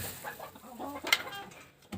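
A bantam hen clucks in short, close bursts while pecking at eggshell in a Ukrainian village yard, with someone talking softly nearby.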